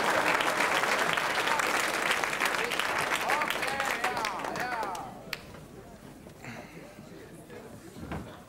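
An audience claps enthusiastically in a dense burst of applause that fades after about five seconds into scattered claps and room noise, with talking mixed in.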